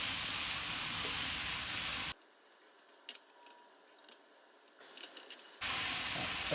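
Tomatoes and spices sizzle in hot oil in a pan, a loud broadband hiss that drops away mid-clip to faint ticks and crackles before the full sizzle returns.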